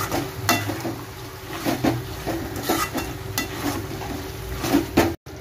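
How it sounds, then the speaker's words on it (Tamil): Mutton kulambu with mutton masala being stirred in a pot, with repeated scraping and knocking of a utensil against the pot at an irregular rhythm over a steady low background hum. "நல்லா கிளறி விட்டுக்குங்க"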